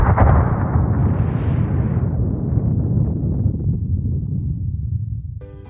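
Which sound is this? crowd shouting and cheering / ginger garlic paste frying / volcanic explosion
volcanic explosion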